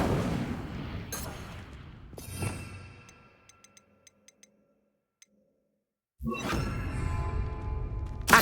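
Incendio fire spell in Hogwarts Legacy: a couple of sharp whooshing bursts and a roaring flare, then near silence with faint ticks before another loud crackling blast of fire at the end.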